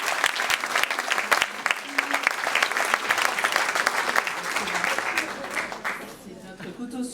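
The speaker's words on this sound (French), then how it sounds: "On peut les applaudir pour les encourager." An audience at a municipal citizens' meeting claps steadily for several seconds in a dense, lively patter that thins and fades toward the end.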